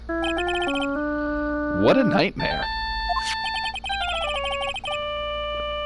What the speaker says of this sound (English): It's a ringtone.